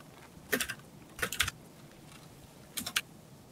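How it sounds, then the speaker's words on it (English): A computer keyboard being typed on in three short bursts of quick key clicks, separated by quiet pauses, close and moderately loud with no voices. "Doing a lot of typing, man."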